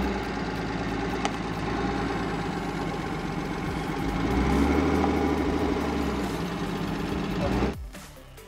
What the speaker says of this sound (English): we're still left with this terrible clicking noise